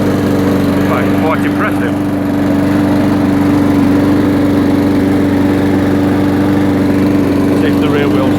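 A Honda 135cc engine powering a Champion petrol lawnmower runs steadily and loud close by, with a constant droning hum throughout while a person speaks briefly over it.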